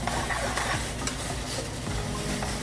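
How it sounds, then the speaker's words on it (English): Garlic shrimp pasta being stirred in a hot pan, a steady loud sizzle with scraping stir sounds running throughout, no voices. "Give it up a nice little stir."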